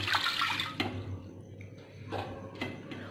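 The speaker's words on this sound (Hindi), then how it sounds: "मैंने एक कढ़ाई ली है, इसमें हमें जरूरत पानी डालेंगे" Water splashes and trickles into a wok in short bursts with brief pauses between, close by and fairly loud in a home kitchen.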